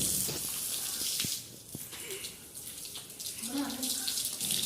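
Water sprays and splashes steadily while a kitchen is washed down with pressured water, a broad hissing rush that dips briefly in the middle before building again, with no talking.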